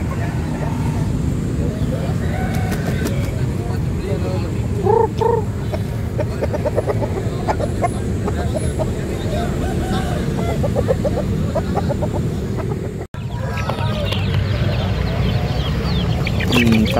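Chickens cluck and a rooster crows among a busy, noisy crowd at a poultry market in Makassar, Indonesia, with people talking and traffic rumbling in the background.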